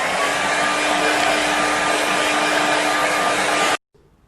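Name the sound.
hair dryer drying a watercolour painting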